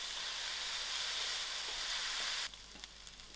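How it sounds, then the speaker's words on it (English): Onions frying in oil give a loud, dense, close sizzle that drops abruptly to a quieter crackle with faint stirring for the last second. "To my oil, I'm going to add in my onions. I'll allow this onion to fry out."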